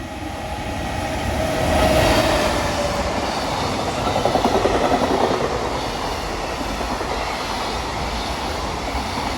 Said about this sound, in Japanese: 現在ホームのないこの線路は特急サンダーバードや貨物列車などが通過しています。